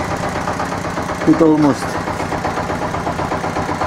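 Homemade 4x4 tractor with chain drive running under brake load, a steady close engine drone throughout, with a brief rising strain in the middle and someone speaking over it.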